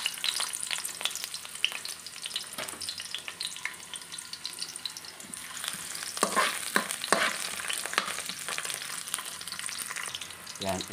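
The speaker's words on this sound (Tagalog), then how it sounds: "Una kong igigisa ay onion." Onion sautés in hot oil in a pan with a continuous crackling sizzle, while stirring scrapes and clicks come through close up over about eleven seconds with no talk.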